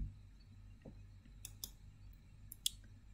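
Computer mouse clicks on a software dialog button, a few faint, sharp clicks spread over a few seconds against a quiet room hum, the last one the most distinct, no talk.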